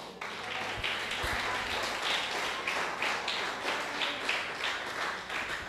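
Sustained applause from a church congregation during a sermon, a dense wash of clapping heard at moderate distance with faint rhythmic pulses and a few low thumps near the start.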